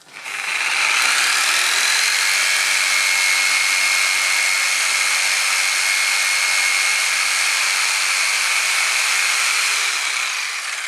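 A Triton TJS001 jigsaw fitted with a metal-cutting blade saws steadily through plastic, a continuous loud buzzing rasp that holds evenly for about ten seconds before tapering off.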